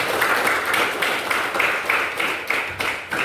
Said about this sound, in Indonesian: terima kasih semua, tepuk tangannya yang mulia